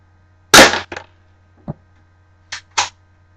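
A G1 airsoft BB pistol fires 6mm BBs from three or four meters away, giving several sharp, separate snapping shots with short gaps between them. A faint thud follows in the middle, and nobody talks.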